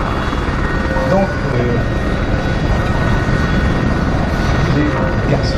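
Piston engines of a B-25 bomber taxiing at an airshow rumble as a steady, continuous drone in the distance, with a broad, constant roar throughout and no clear pauses.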